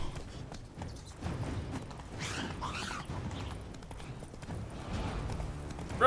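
Horse hooves clip-clop in The Witcher 3: Blood & Wine, a moderate rhythmic trot of hollow knocks with faint creaks and gear rattle, heard at mid distance without speech.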